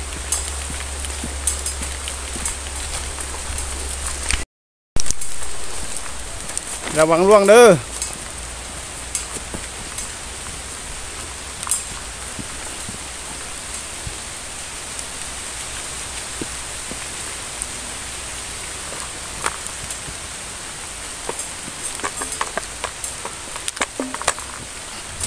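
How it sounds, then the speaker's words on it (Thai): Rain falls steadily in an outdoor field setting during a military patrol, a continuous hiss with scattered drops lasting throughout, as a voice briefly speaks early on. "ฝนลงแล้วพี่น้องฝนลงมาแล้ว"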